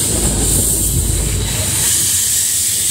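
Aboard the Porter 58 narrow gauge steam locomotive on the J&L Narrow Gauge Railroad, a loud continuous hiss of steam over a low rumbling chug, with wind buffeting the microphone.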